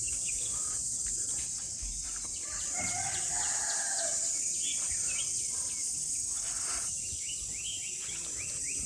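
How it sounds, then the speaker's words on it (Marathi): Morning in a Konkan village: a constant high cricket drone runs throughout while birds chirp and twitter in short bursts, and a rooster crows in the middle distance, all with no talk. "पक्ष्यांचा किलबिलाट"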